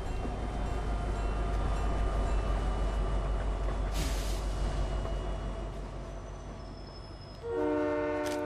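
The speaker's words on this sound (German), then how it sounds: "Da kommt der Zug." A train arriving in Fortnite, heavy rolling rail rumble building and fading, a short horn blast near the middle and a sustained, tonal horn sounding loudly at the end.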